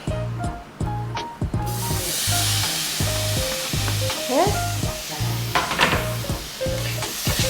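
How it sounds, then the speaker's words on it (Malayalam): Tomatoes frying in a hot pan and being stirred: a loud, continuous hiss and sizzle close up with scraping stirs, beneath a steady rhythmic musical backing. "തക്കാളി ഇട്ടിട്ട് നമുക്ക് ഒന്നുകൂടി ഫ്രൈ ചെയ്തെടുക്കാം."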